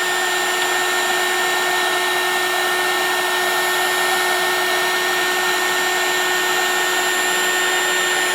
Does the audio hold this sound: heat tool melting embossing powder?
yes